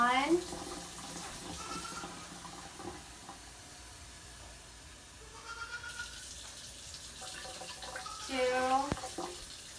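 Tap water runs softly into a medium heavy saucepan, a faint steady hiss under a person counting cups aloud, with small clinks near the start and end.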